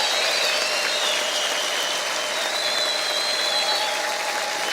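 Congregation in a church giving sustained applause mixed with high, warbling ululation: a steady, dense wash of clapping at even loudness throughout, with no pauses.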